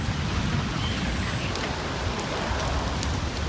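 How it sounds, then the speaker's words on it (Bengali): Heavy rain pours steadily in a nature park, a dense, even hiss that runs without pause. A low rumble underneath may be distant thunder. "বৃষ্টি আর বৃষ্টি আর মেঘের গর্জন"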